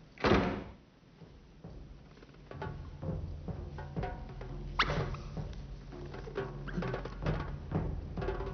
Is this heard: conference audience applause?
no